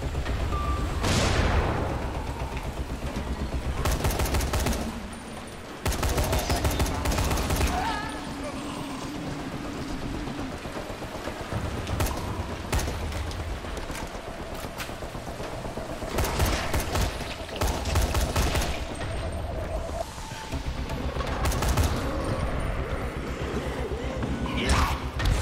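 Repeated rifle shots and explosions from the zombie game Dying Light, with a player's voice running under the shots throughout.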